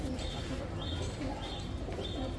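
Red lal chulli pigeons coo in soft repeated phrases at a busy pigeon market, under a constant wash of crowd noise and distant chatter, with faint chirps mixed in.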